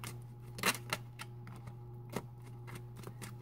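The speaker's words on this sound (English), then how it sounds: "Just shuffle a couple more times here." Tarot cards are shuffled by hand in a quiet room, giving a series of soft, irregular papery riffles and taps over a low steady hum.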